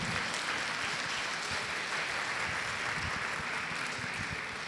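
A congregation at a women's church service claps steadily, a dense even wash of applause that holds at the same level from start to finish.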